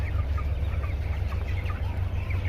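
Several chickens cluck in short, overlapping bursts over a constant low hum on a poultry farm on a foggy winter morning, fairly close and moderately loud, with no talking.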